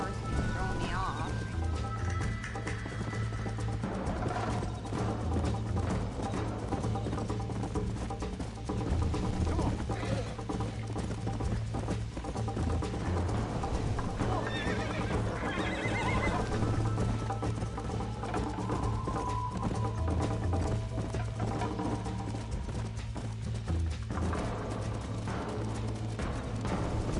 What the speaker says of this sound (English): this horse is throwing me off